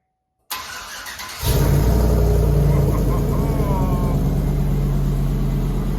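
A Chevy Silverado fresh from a solid axle swap cranks and starts, then settles into a loud, steady idle with a deep rumble, close by and alone without talk.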